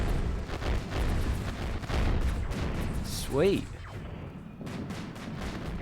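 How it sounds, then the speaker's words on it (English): Las cannons fire in the RimWorld video game as dense, rumbling volleys of booming shots with one sharp sweeping zap midway, while someone talks over the steady barrage. "las cannons do fire"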